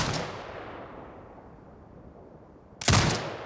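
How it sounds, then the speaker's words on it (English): An automated turret in the video game Sniper Ghost Warrior Contracts 2 lets off a loud burst of fire near the end, following the fading tail of an earlier blast. "Exit binocular mode and command the turret to fire."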